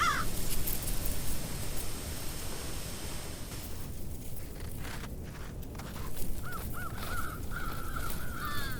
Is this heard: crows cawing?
yes